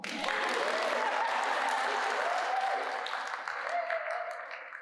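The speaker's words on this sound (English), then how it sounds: "You clap." Audience applause at a fellows' literary reading in a museum, a dense, steady wash of clapping that holds for the whole stretch, with faint voices in the background.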